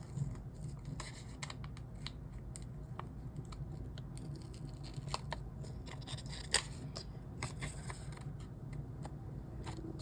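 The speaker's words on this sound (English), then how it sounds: "I could just cut just the book stack out." Scissors cut a book-stack shape out of paper for a planner page, a steady run of soft snips and crisp paper scratches close by, quiet and without speech.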